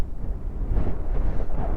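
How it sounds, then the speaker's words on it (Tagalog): Strong gusts buffet the microphone on an open hilltop park overlooking a lake in Tagaytay, a steady low rumbling roar that swells and surges throughout with no voices. "Ay, lakas ng hangin dito."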